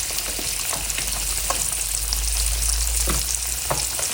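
Sweet potato yams frying in a pan, a loud, continuous close-up sizzle with scattered small pops and crackles throughout.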